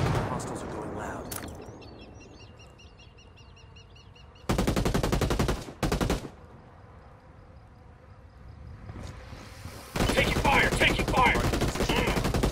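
Bursts of automatic gunfire from hostile enemies in the tactical shooter Ghost Recon Wildlands, two loud sustained volleys with a short break between them, then a third long burst, over quieter ambient game sound.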